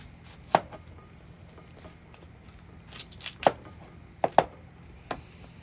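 A kitchen knife chopping an onion on a cutting board, about six sharp separate knocks spread irregularly over a quiet background, close and clear, with no talking.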